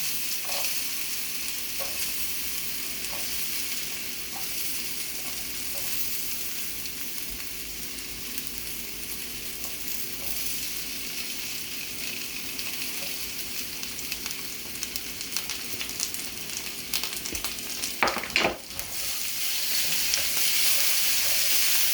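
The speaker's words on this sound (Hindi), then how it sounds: "पोटैटो को हम फ्राई करते हैं" Potatoes fry in hot oil with a steady, loud sizzle that runs throughout, broken by a brief louder crackle and stir near the end; no voices.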